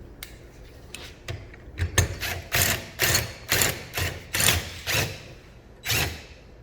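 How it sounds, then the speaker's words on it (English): A Pro-Light glue puller dent lifter being prepared gives a series of close, quiet mechanical clicks and ratcheting scrapes in an uneven rhythm, about a dozen short bursts. "And I will prepare my big lifter here, the Pro-Light puller."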